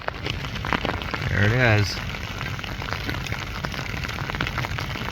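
Heavy rain pours steadily onto a tarp outdoors, a dense constant hiss of drops throughout, with a voice speaking briefly over it.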